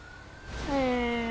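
A police car siren wails in GTA 5, rising in and climbing in pitch near the end of a short moment, fairly faint against game background noise.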